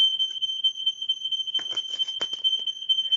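A piercing, continuous high-pitched smoke alarm tone sounds steadily in a house, with faint clattering noises briefly in the background partway through.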